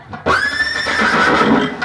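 A horse neighs loudly and close by in a long, high, wavering whinny that starts sharply and trails off, set in a Bhagavat Katha story about releasing a sacrificial horse, with no talk over it.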